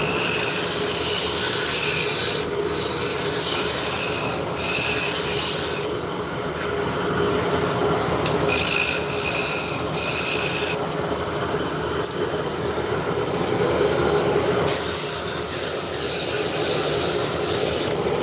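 A wood lathe spins a turned shaft as a spindle gouge cuts along it, giving a steady, loud rasping scrape that changes tone with each pass and pauses briefly between cuts.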